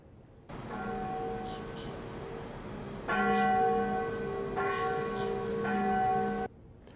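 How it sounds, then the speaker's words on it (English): Church bells at Christ Church in Johnson Square, Savannah, toll steadily on a September 11 anniversary with a rich, ringing hum, swelling louder partway through as more strikes overlap, then stopping abruptly. "bells tolled at historic Christ Church in Johnson Square."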